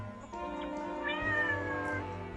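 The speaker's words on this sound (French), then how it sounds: "et Sergent Tib, un chat." Cat meowing, a single drawn-out, close and clear meow rising in pitch, used as an audiobook sound effect.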